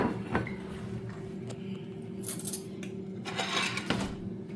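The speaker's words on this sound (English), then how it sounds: "Just cut one for us, Johnny." Knife and fork clink and scrape against a plate while an air-fried pork chop is cut, with a few sharp taps over a steady low hum, close by and moderately loud.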